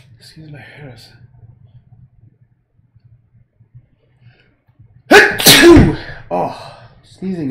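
A single loud, sharp sneeze erupts close to the microphone during a livestream painting session, preceded by quiet murmured talk and followed by a short voiced exhale.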